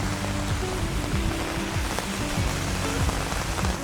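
Rain pours onto a city street in Seoul, a loud continuous patter and splash close by, with faint tonal hums of passing traffic woven through it.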